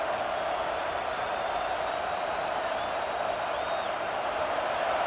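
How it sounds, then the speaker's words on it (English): Steady, dense crowd roar from a video game football stadium fills the clip without break, a broad wash of stadium noise with no distinct voices standing out. "the crowd really making some noise now"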